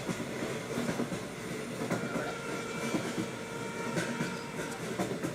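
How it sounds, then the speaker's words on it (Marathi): A recorded train sound effect plays during a Std X annual school gathering stage play: a continuous, steady rattling rumble of rail cars with faint clatter throughout. "ट्रेन मुंबईला पोहोचून चौघेही खाली स्टेशनवर उतरतात."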